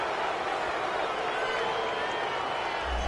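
Stadium crowd in a football video game reacting to a penalty call, a steady loud roar of many voices that holds evenly throughout and swells slightly at the very end.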